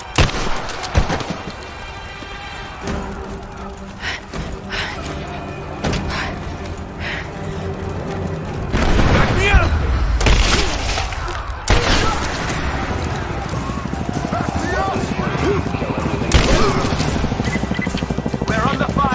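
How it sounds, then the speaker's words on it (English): Gunfire in Rise of the Tomb Raider, sharp single shots and bursts crackling across an outdoor village, loud blasts around the middle over rumbling ambience, with voices speaking in between. "We're under fire at the edge of the village."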